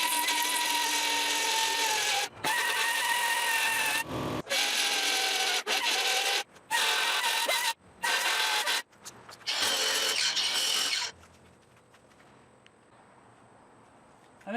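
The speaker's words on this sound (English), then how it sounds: "now what I'm going to do is just grind it away and see if I can make it match the sill" A grinder works away a weld on a VW Bus window sill, a loud continuous whine in several long bursts broken by brief pauses, close up, then stopping and leaving a quiet room tone.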